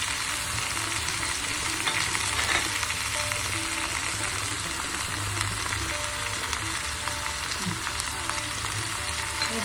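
Kandabachali curry with salt, turmeric and tamarind juice simmers and sizzles steadily in a pan, a dense, even frying hiss close by, with a few faint stirring scrapes and no voices.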